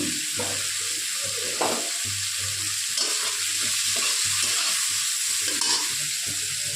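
Prawns frying with turmeric and salt in a pan, a continuous hiss of sizzling oil with periodic low scraping as the pieces are stirred, steady and close with no speech.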